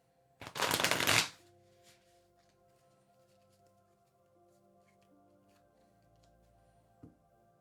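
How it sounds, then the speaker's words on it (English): Tarot cards are shuffled in one brief, loud riffling burst near the start, followed by near silence with a faint tap later on. "I'll start shuffling the cards."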